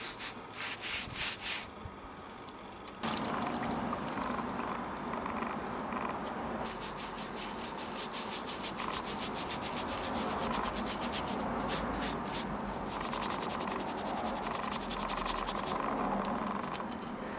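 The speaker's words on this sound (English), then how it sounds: "You don't really need to scrub, just brush it over the mortar staining and let the acid do the work." A brush sweeping brick acid over mortar staining on brickwork, close, steady rhythmic scratchy strokes that repeat without a break.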